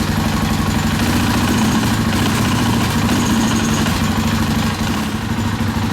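A KTM 50SX dirt bike engine idles steadily close by, a low, throbbing rumble with a rapid, even putter that holds constant throughout.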